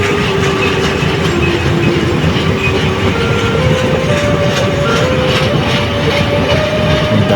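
A train rolls past a railway level crossing, giving a loud continuous rumble with rhythmic wheel clatter and a faint squealing tone close by.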